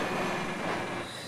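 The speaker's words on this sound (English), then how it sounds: "One more train." A train in the BeamNG.Drive driving game gives a dense, continuous rumbling roar, loud and close, steady across the whole brief moment with no talking.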